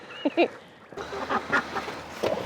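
Ducks quacking nearby, a few short nasal honks in bursts against quiet outdoor background.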